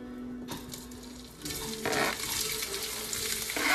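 Meat frying in olive oil in a non-stick pan for a brunch, a close steady sizzle that swells louder partway through with faint stirring clatter.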